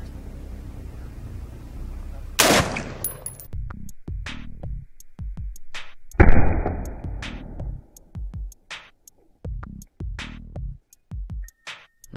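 MP7 or P90 armor-piercing rounds fired at Soviet 6B3 and 6B5 body armor plates, two sharp loud gunshots a few seconds apart followed by a string of short clicks and clatters.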